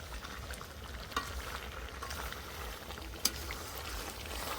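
Potatoes fry with desi chicken curry in oil, a soft, steady sizzle with a couple of sharp clinks from a spoon stirring the pan, heard quietly without any talking.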